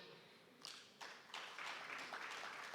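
Faint applause at an African agriculture conference session begins with a few scattered claps and gradually builds into thin, continuous clapping from a small audience, heard from a distance and very quiet.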